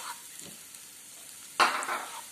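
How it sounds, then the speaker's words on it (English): Finely chopped onion dropped into butter and oil in a pan for pav bhaji, a soft stir followed by a sudden close sizzle that settles into a gentle crackle. "Now add the onion. Onion is 1 cup. 1 cup finely chopped onion."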